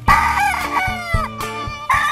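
A rooster crows loudly and close by, several harsh, stretched calls in quick succession with short clucks between them.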